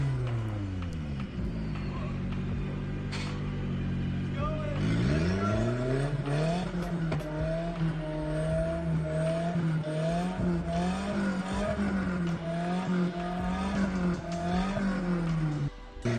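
A lowered car stuck on a strip of road paint revs its engine hard and repeatedly. The pitch climbs and falls in close, loud surges with a hint of tire squeal.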